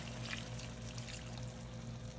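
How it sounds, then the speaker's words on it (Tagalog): A little water is poured into a pot of cooking lechon meat, a faint, steady close pour over a low background hum. "lagyan na natin siya ng tubig"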